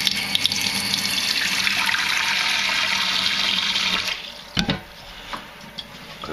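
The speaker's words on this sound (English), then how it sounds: "Put some cold water in." Cold tap water runs into a container for cooling a boiled cartomizer, a loud steady close gush that stops abruptly, followed by a few clunks and drips.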